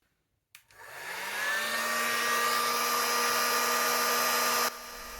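Hot air gun blasting steadily onto the engine cylinder casting of an NSU Prima scooter, a loud continuous whirring roar with a rising whine that starts abruptly and runs for several seconds before cutting down at the end.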